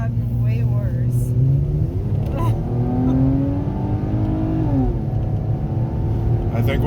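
Car with a major exhaust leak and loud pipes, heard from inside as a constant heavy low drone and rumble with engine pitch rising and falling through changes in revs.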